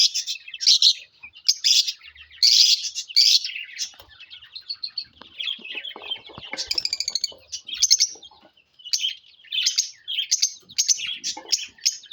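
Lovebirds, including a blue opaline ino breeder female, chirp and tweet in rapid bright bursts, close and fairly loud, with short pauses between clustered calls and no talking.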